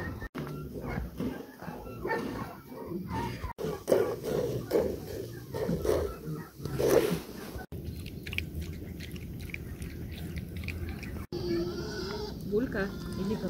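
A dog runs around its enclosure, barking in repeated bursts at close range, while people talk nearby and other farm animals such as goats may also be heard.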